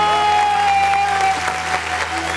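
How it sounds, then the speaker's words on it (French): A live audience cheers and applauds steadily throughout at a francophone improvised stage show, a dense, continuous wash of clapping with a sustained tone ringing beneath it. "Pour moi, faites des acclamations"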